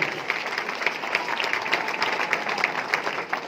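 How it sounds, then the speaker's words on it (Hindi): Audience applause at a success celebration in Bhilwara, a steady, fairly close patter of many hands clapping continuously with no speech over it. "एक बार मैं चाहूंगा उनके लिए जोरदार तालियां हो जाए"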